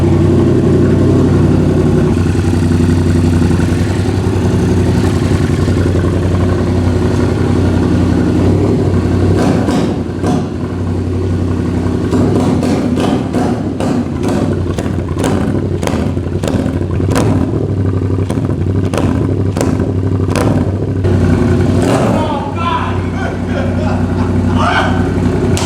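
A Yamaha FZ-07 motorcycle with an SC-Project exhaust rumbles loudly and close at idle, then gives a rapid run of sharp throttle blips and crackles before settling back to a deep idle.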